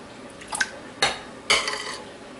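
An egg cracked and dropped into a bowl holding sugar and zucchini for zucchini bread, giving three short clinks and taps against the bowl, close and moderately loud with no voices.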